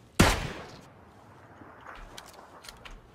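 A gunshot in PUBG Battlegrounds, one loud close crack at the start that fades into a quieter tail with a few faint distant pops.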